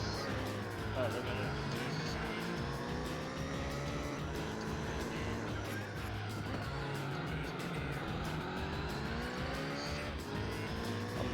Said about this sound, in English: I actually really like the sound of this car, even though it's not realistic